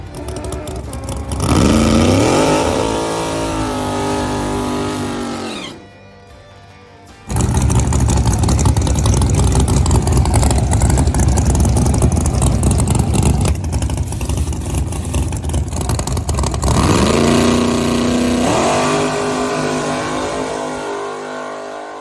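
A no-prep drag race car's engine roars loudly and revs hard, climbing in pitch as it accelerates down the track at Bunker Hill, with a brief dip before a sustained, deafening pull and another rising rev.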